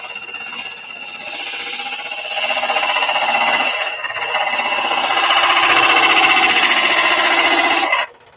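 Woodturning gouge cutting into timber on a spinning lathe while shaping a tenon, a steady close grinding scrape with a brief dip around four seconds before cutting off sharply at the end.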